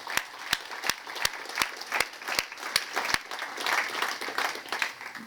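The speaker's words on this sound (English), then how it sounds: "Let's please give them a round of applause." Audience applause for public safety officers at a city State of the City event, a steady crowd of clapping with many sharp, evenly spaced loud claps from one nearby clapper standing out over the wash.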